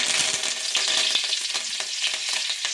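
Mustard seeds, fenugreek and curry leaves frying in hot oil for okra kara kuzhambu, a loud steady crackling sizzle with dense pops and spits throughout.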